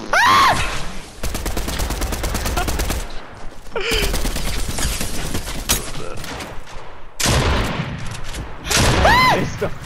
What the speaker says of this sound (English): It's the freaking shotgun shot.